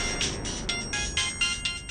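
Mobile phone ringing with a repeating electronic ringtone, short bright bursts in a steady rhythm, close and clear with no voices over it.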